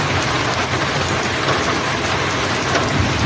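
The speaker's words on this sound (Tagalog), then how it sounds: "Oh, lakas ng ulan, no?" Heavy rain pours steadily, a dense, constant roar of drops drumming on a surface close by, with no pauses for the whole stretch.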